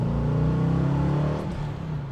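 A restomod 1964 Chevrolet Nova with a 350 crate V8 accelerates hard, a loud, steady low engine drone that rises and shifts partway through, heard up close with no talking.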